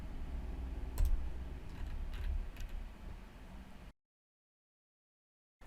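A few sharp computer mouse clicks on a desk while working in scheduling software, close and clear over a quiet room, then abrupt silence.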